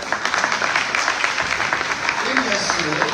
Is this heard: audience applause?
yes